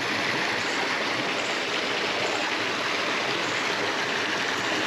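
Water at a natural pool in Paraguay flows in a steady, dense rush that fills the whole moment with even, unbroken noise, with no voices.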